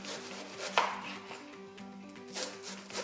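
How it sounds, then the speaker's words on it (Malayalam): A knife finely chops cabbage for a homemade salad, quick light cuts against a board with a sharper knock near the start, no talking. "എന്തുമാത്രം നൈസായിട്ട് അരിയണോ അത്രയും നൈസായിട്ട് അരിയണം"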